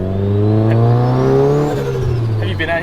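A 700hp big-turbo Audi S1 hot hatch accelerates hard on a race circuit, its engine note climbing loud and close through the gears with a steady rising drone and a brief shift near the end.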